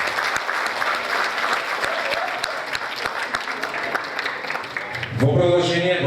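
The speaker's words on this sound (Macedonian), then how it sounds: "Аплауз и за гостите од Кочани." Sustained, dense applause fills a hall at a New Year folk concert, steady and loud throughout, with a brief musical swell rising at the end.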